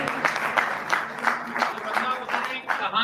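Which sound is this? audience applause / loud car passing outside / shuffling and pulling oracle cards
audience applause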